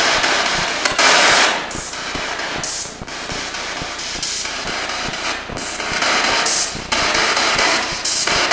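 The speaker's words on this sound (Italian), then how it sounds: "Sento dei rumori come degli spari." Sharp impulsive cracks like gunshots echo inside an old bunker at Pinzano, repeated irregularly over a dense, roaring broadband background with several loud bursts spread across the span.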